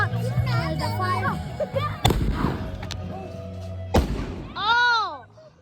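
Fireworks going off outdoors at night, two sharp loud bangs a couple of seconds apart with rumbling tails, mixed with lively voices and a whistling rise near the end.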